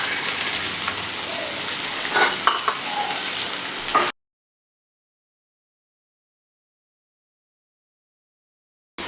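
Two large chopped onions sizzling in hot oil with fennel and curry leaves for mutton chukka, a steady close frying crackle for about four seconds, then sudden silence.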